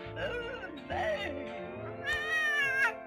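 A cat in the game Thimbleweed Park meows several times in a row, clear rising and falling tonal cries close up, the last one higher and more insistent, with no talk over them.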